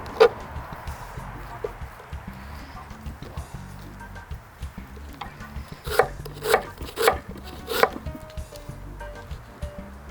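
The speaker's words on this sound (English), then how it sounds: "the onion we cut in small pieces." Knife chopping half a red onion into small pieces on a board, a few crisp, quick cuts clustered together, fairly close and moderately loud.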